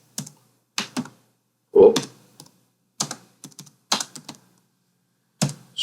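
Short bursts of keystrokes tap on a computer keyboard while HTML code is entered, separate clicks and clusters spread out with pauses between them, close and fairly quiet.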